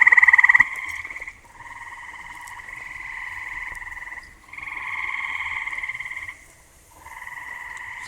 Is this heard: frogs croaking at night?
yes